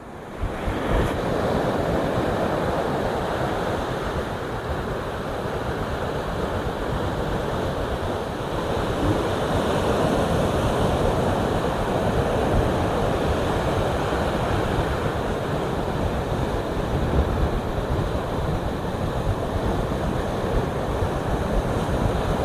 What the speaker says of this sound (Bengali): ঢেউগুলো যখন এই জায়গায় এসে আছড়ে পড়ছে